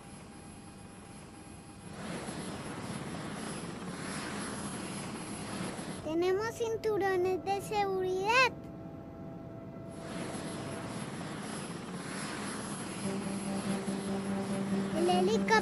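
A helicopter's steady rotor and engine roar fills the cabin from start to finish, with someone speaking over it partway through.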